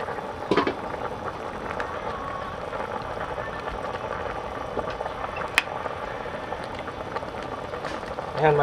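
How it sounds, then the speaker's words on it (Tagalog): A pot of chicken broth cooked in coconut water bubbling steadily at a rolling boil, a continuous soft gurgle with a few clinks near the start and end. "kumukulo na yung sabaw natin"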